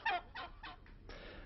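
A flock of farm geese raised for Christmas tables honks in a quick series of four or five nasal calls, moderately faint and heard without any talk.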